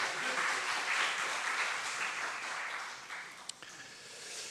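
A church congregation at a Sabbath worship service applauds to welcome a young guest, a steady wash of clapping that fades slightly toward the end, with a couple of sharp isolated claps near the close.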